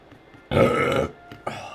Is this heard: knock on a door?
no